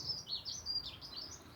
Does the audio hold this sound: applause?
no